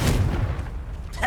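Confringo blasting spell explosion in Hogwarts Legacy: a heavy, close thump-like boom with a low rumbling body, ending in a short brighter burst of noise, no voices.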